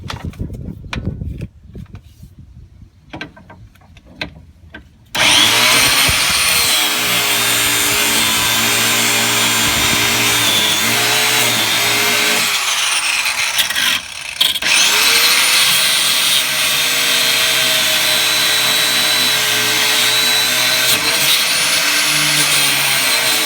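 A power tool grinds loudly and continuously while cutting away the lower control arm of an Infiniti G35, a steady, close, whining roar with shifting pitch and one brief pause, preceded by quieter scraping and handling.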